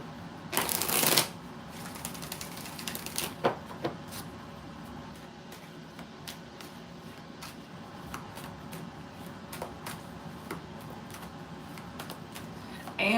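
Tarot cards being shuffled, beginning with a loud burst of riffling, followed by softer intermittent card taps and slides over quiet room tone.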